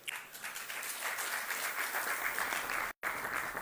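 Sustained applause from an audience at a national sports awards ceremony, steady and dense with a brief dropout near the end.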